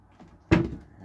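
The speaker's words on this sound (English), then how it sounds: "so pull out drawers, lots of" A single drawer slides out aboard a sailboat cabin, one quick wooden knock and rumble standing out from a quiet background, with no talking.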